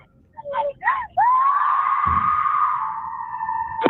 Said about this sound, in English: You were screaming.